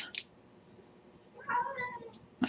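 A house cat meows indoors close by, giving one drawn-out meow midway through a quiet room, with a couple of soft clicks at the start and a short knock at the end.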